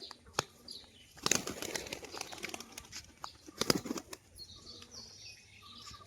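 A female white pigeon flaps its wings in several sharp bursts, with soft clicks and faint chirps between them, close by and fairly quiet.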